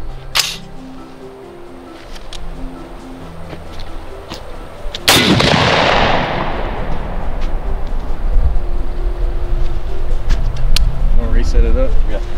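A single loud, sharp gunshot fired at cheap budget body armor rings out outdoors and leaves a long decaying boom, with quiet ambient noise before and after.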